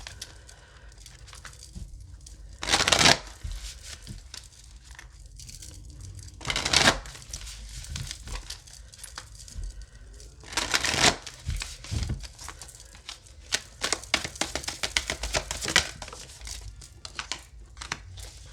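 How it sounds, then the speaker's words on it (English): Tarot cards are shuffled in several brisk bursts of papery riffling and rustling, close by, separated by quieter handling. "So let's get some of these tarot cards out here."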